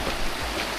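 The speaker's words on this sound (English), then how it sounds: "At the moment we're just walking beside the creek" A creek flowing beside a hiking trail on the Te Araroa in New Zealand, a soft steady burble and rush of running water, close and even, without talk.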